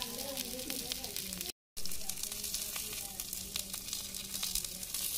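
Chicken frying on a hot clay roof tile over a wood-fired stove in Konkan, a continuous crackling sizzle with scraping as the pieces are flipped, broken by a brief gap of silence, with a voice speaking over part of it.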